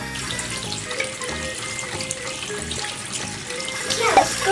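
Water runs steadily from a tap with splashing as hands are rinsed beneath it, fairly close and continuous.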